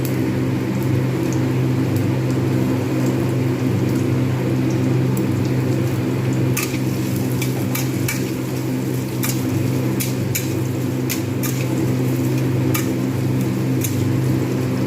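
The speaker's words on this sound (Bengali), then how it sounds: "পেঁয়াজটা আমি এবার ভেজে নেব।" Onions fry in a pan with a steady, close sizzle and scattered sharp pops and crackles throughout.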